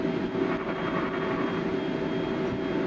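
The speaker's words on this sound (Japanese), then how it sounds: "飛行機が止まるまで、しばらく待ちたいと思います" An ANA airliner taxis to the gate at Tokyo Haneda after landing, heard from inside the cabin as a steady, loud engine drone and airframe rumble, unbroken and without talk.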